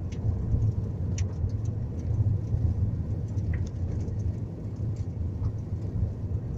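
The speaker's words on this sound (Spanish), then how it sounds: "Es un día de lluvia." A car drives on a rainy day along a mountain road through Transilvania in Romania, a steady low engine and road rumble with rain patter and faint ticks, continuous and close.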